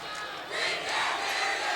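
Crowd at a girls basketball state final swells into a loud, continuous roar of cheering and shouting filling the arena.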